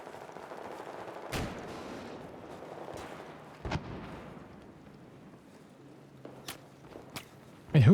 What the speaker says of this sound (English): Wait, who is shooting at me? Someone is shooting.